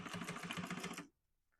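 A sewing machine runs fast while stitching a seam on a fabric bag, a steady rapid needle rhythm for about a second before stopping abruptly into near silence.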